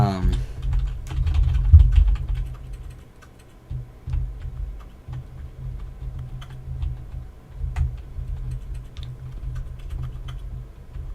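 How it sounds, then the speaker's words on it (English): A computer keyboard and mouse click steadily while playing a computer game, a run of light, rapid taps and ticks, fairly close and quiet, over a low background hum. "past my clicking, you could hear like faint clicks"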